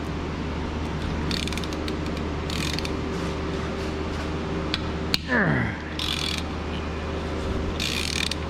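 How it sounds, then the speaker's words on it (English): A ratchet with a 6-inch swivel head extension works on studs during an oil cooler gasket replacement on a Chevy 1.8 engine, giving short bursts of close metallic clicking over a low background hum. "Switching over to a 6-inch swivel head extension."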